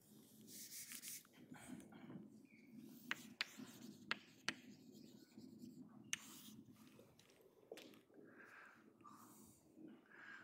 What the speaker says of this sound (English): So now let me write the theorem.